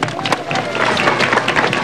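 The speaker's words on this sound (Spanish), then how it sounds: "Un voto de aplauso para nuestro presidente." A large crowd applauds the president at a public inauguration event in the Pasco region of Peru, producing dense, loud continuous clapping with some crowd murmur underneath.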